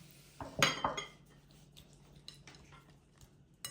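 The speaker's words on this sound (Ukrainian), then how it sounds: "вилочкою ось так легенечко розтираємо" Drained canned fish mashed with a fork in a bowl for a Mimosa salad, a cluster of clinking, scraping fork strikes early on, then lighter intermittent taps and scrapes, close and fairly quiet.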